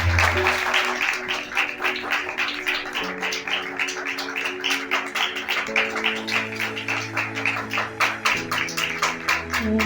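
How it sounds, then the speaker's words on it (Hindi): Loud, continuous applause from a church congregation during a Hindi-language Christian worship service, dense rapid clapping sustained throughout with sustained musical tones underneath. "खुदा के जिंदा पाक कलाम के लिए जोरदार तालियां"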